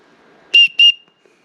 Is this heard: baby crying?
no